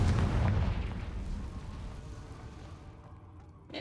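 A Confringo spell explosion in the video game Hogwarts Legacy, a heavy booming burst at the start that rumbles and fades away over a few seconds.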